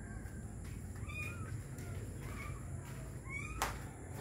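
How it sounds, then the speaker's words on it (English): Newborn kittens hidden under a car hood squeak and mew in a series of faint, thin high cries, several short calls spread across a quiet background hum. "I think the cat had the kittens because I hear something"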